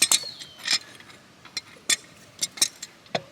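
A Teflon-taped PVC fitting is twisted tight on a pool filter, giving a series of short, sharp plastic creaks and squeaks in irregular bursts, close by and otherwise quiet.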